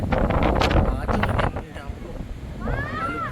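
Strong wind buffets the microphone with a low blustery roar while a person talks over it.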